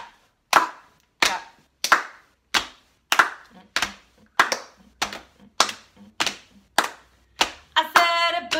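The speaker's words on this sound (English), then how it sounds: "We're going to tap and clap" About a dozen crisp hand taps and claps land in a steady, evenly spaced beat during a children's music class for a boom chicka boom chant, close and distinct, ending with a brief tonal sound.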